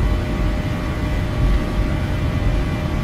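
A KLM airliner's engines at takeoff thrust in the Prepar3D flight simulator, leaving Amsterdam, a steady, loud, close roar with a low rumble and faint whining tones, unbroken throughout.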